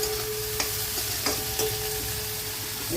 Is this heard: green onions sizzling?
yes